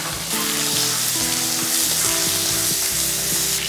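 Loud, steady sizzling of chopped onion frying in hot oil, with a few brief tonal clinks over the constant hiss.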